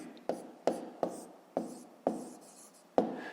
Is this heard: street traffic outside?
no